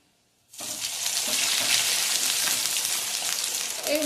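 Bread rolls dropped into hot oil set off a sudden sizzle after a brief silence, then a loud, steady bubbling fry that continues to the end.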